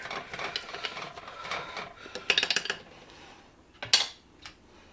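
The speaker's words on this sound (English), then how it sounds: "Just use a wooden handle or something, and just push it down." Red onions pressed down into a jar with a wooden handle, a few soft scraping, knocking taps against the glass, with two sharper clinks standing out near the middle and end.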